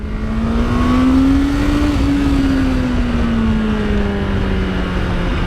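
Honda CBR650R motorcycle engine at steady riding speed, a continuous loud drone whose pitch rises slightly then slowly falls, with wind rush throughout and no voices.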